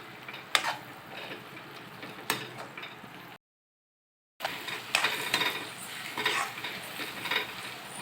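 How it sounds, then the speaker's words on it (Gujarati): Fried okra being stirred into a tomato-based gravy for a stuffed bhindi masala, with soft scraping clinks of a spoon against the pan and a low sizzle, broken by a second of dead silence partway through. "હવે આપણે તેમાં ફ્રાય કરેલા ભીંડો તેમાં નાખી દઈશું અને મિક્સ કરી દઈશું"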